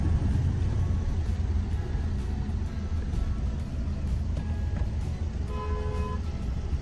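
Car driving along the road to the airport in India, a steady engine and road rumble with several short horn toots from surrounding traffic, no talking.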